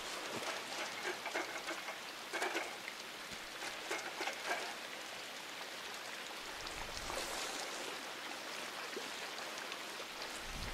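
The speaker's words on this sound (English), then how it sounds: "Looks like the rain might let up." Steady rain pours down in the game INSIDE in a continuous hiss, with occasional brighter patters and splashes over the dense, even wash.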